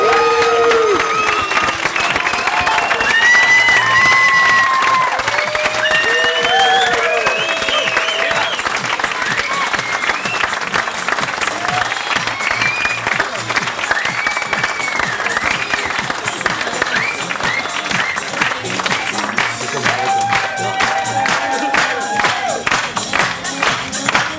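Wedding guests applaud and cheer loudly for a bride and groom at their reception, steady dense clapping with whoops and shouts rising over it throughout, voices mingling in the crowd.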